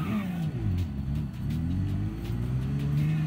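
A car drifting in Gran Turismo Sport, its engine revving up and down with rising and falling pitch, loud and close, with faint tyre noise over a low rumble.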